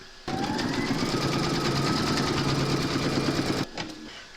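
An embroidery machine stitches the second round on a hooped in-the-hood bunny slipper, a steady fast mechanical whir with rapid needle ticks that starts abruptly, runs for several seconds and stops, close and alone.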